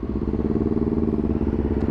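A Yamaha R25 motorcycle engine idles close by with a steady, throbbing mid-pitched rumble, its exhaust pulsing evenly throughout without any voices.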